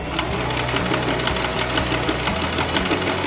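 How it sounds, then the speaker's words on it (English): A sewing machine stitches sock fabric for a DIY top, running continuously at speed with a dense, rapid mechanical chatter and steady motor hum, close and loud with no voices. "So let's bring this to the sewing machine."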